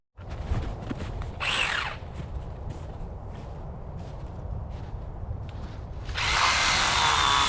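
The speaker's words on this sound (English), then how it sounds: "So when I plug this in, we get electric chainsaw." An electric chainsaw cutting deadfall wood for a shelter in icy woods, whining briefly up front, then a low steady hum before the saw roars loudly near the end.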